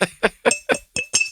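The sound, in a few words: bottle top clinking on glass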